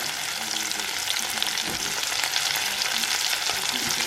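Onion and ginger juice fry in a pan with a loud, dense, continuous sizzle, while a spatula stirs and scrapes through it in occasional soft knocks; no one speaks.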